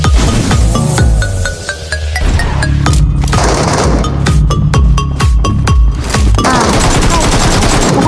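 Gunfire in a battle royale video game, rapid volleys of shots and sharp cracks in dense bursts with metallic clinks, loud and continuous, under a busy game soundscape with no clear speech.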